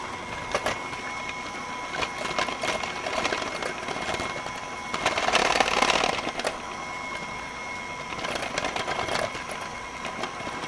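An electric mixer whips dalgona coffee with a continuous close motor whir that swells louder for a moment near the middle and keeps running for about ten seconds.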